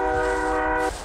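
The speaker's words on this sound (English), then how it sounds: "Never mind that train." A train horn blares in a loud, steady chord and then cuts off, with rumbling rail noise underneath.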